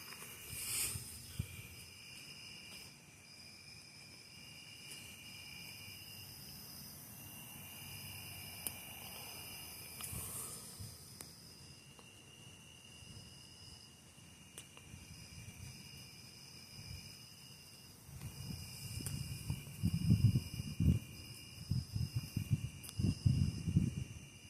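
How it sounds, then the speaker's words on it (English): Crickets chirp steadily outdoors ahead of an approaching storm, a thin continuous trill over low rumbling background noise that grows louder and more turbulent near the end. "You can hear the crickets."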